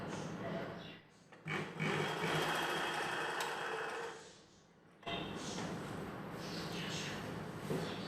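A sewing machine stitching a churidar pant leg near tucks: a steady, close mechanical whirr that briefly drops out and then resumes for a second continuous run, with a voice faintly in the background.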